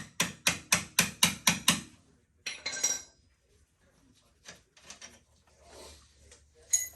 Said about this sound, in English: Tap this out with a hammer.